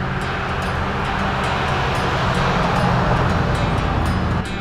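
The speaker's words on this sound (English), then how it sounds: "This traffic sure is loud." A loud, continuous roar of road traffic close by near the water at Pensacola, Florida, a dense broadband rush with no distinct individual vehicles and no talking.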